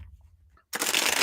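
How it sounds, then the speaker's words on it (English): A deck of reading cards is shuffled in one short, loud riffling burst after a brief quiet pause, heard close and alone. "All right, let's shuffle these up."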